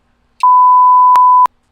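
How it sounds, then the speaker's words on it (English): A single loud, pure electronic censor bleep rings out for about a second, a steady tone standing alone against silence. "They gonna hear like beep."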